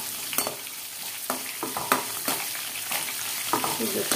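Lentils, crushed garlic and green chillies fry in oil with a constant hiss, broken by repeated scrapes and taps of a spoon stirring the pan, close and moderately loud.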